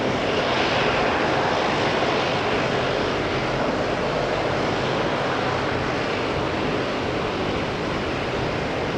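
A Boeing 787 Dreamliner jet roars at an airport, a loud, continuous broadband engine rush that holds steady throughout with no talk over it.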